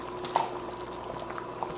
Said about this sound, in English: Now we're just going to boil it,